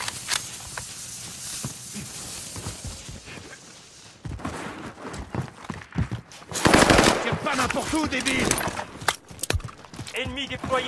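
Rapid bursts of automatic gunfire in Call of Duty Warzone on Rebirth Island, loud close cracks in quick strings, sparser at first, then dense fire mixed with footsteps and game sounds, with a voice talking over it.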